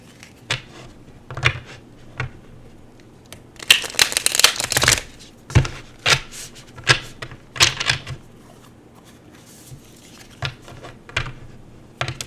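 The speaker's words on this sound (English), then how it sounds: "So let me pull these cards, and then I'll read what the manual says" Tarot cards being shuffled and pulled by hand at close range, sharp riffling bursts and soft slaps separated by pauses, with no talking.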